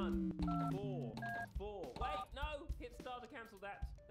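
Telephone keypad tones in a heist video game, a quick series of beeping dial tones keyed one after another while several people talk over them.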